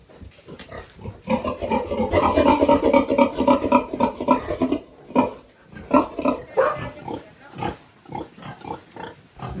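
Pigs and newborn piglets on a farm squeal and grunt continuously at close range, a dense, loud chorus of overlapping calls that rises and falls in bursts.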